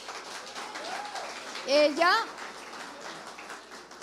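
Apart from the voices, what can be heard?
audience applause in church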